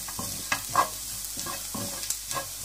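A spoon stirs chili powder into egg bhurji in a hot pan, giving a few distinct scraping strokes over a soft, low sizzle, close and otherwise quiet.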